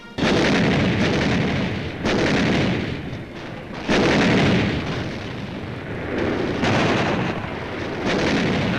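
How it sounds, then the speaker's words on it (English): Artillery fire at Iwo Jima during the Second World War: heavy, rumbling blasts repeat about every two seconds, each one loud and sustained before fading into the next. "We call for artillery."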